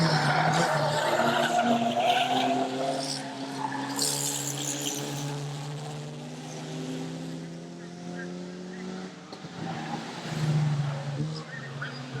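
Stock car engines roar throughout a race, their pitch climbing and falling steadily with several engines overlapping, while tires skid and squeal close by and loud.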